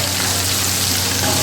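About a kilo of minced keema hits a hot pan with a steady, dense sizzle and crackle, close and continuous for a moment, with no talking.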